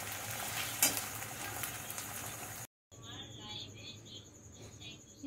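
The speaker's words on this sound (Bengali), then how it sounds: "দেখো, আমি আলুটা একটুখানি ভেজে নিচ্ছি" Potato pieces fry in mustard oil in a pan, giving a steady close sizzle with stirring scrapes; there is a brief cut midway, after which the frying carries on with a faint high whine over it.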